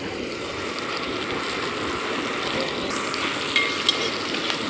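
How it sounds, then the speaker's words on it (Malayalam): Fish curry made with seer fish sizzles and bubbles steadily in a pan while curry leaves are stirred in, a close, continuous frying hiss with a few small clicks and scrapes near the end and no talk. "ഇനി നന്നായിട്ട് ഇളക്കിക്കോ"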